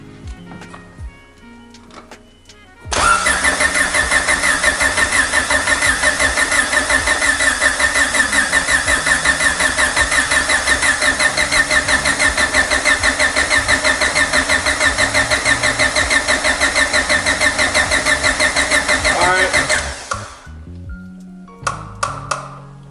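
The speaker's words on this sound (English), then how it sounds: "Go ahead and crank it for about 30 seconds." Honda B16 engine in an EF hatchback cranking for a first start-up after a swap, a loud, even, rapid starter-motor chugging sustained for about seventeen seconds before stopping abruptly, with quiet sounds before and after.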